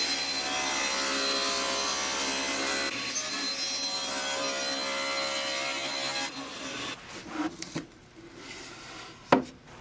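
A saw cuts a wooden box with mitered corners in half on a bevel sled, giving a loud, steady rushing cut for about six seconds. The saw then winds down, followed by a few scattered wooden clunks.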